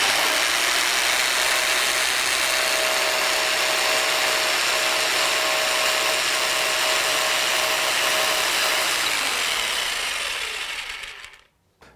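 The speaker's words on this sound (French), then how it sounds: "Nouveau mur et nouveau perçage pour déterminer la matière du mur." A power drill bores into a plaster tile wall with a loud, steady, close grinding whir lasting about eleven seconds before spinning down and stopping.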